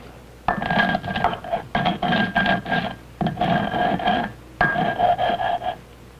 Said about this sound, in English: The dried kernels are rubbed again and again between the mano and the metate until a fine corn meal results.